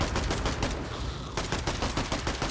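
Rapid continuous SMG5 fire in the zombie survival video game Zelter, a loud, dense stream of closely spaced shots rattling without pause, with a brief dip in intensity midway.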